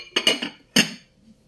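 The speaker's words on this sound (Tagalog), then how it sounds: "Ngayon, guys, isasain na natin ito sa ating kawali. Yan ang ating isda paksiw. At takpan natin, guys." Clinks and clatter of a frying pan and its metal lid as fish paksiw is put into the pan and covered: a quick run of three sharp metallic knocks, a pause, then one more bright clank, close and fairly loud.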